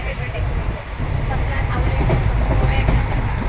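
A passenger train on the way to Shegaon rumbles steadily along the rails with a heavy low roar and faint rhythmic clatter, heard from inside the carriage with voices talking over it.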